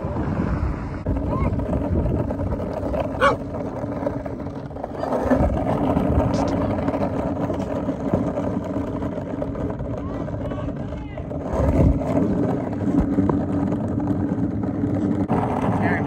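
Strong headwind buffets the microphone while skateboarding on a cross-country road trip, a steady, loud roaring rush with gusty swells that continues through the whole stretch.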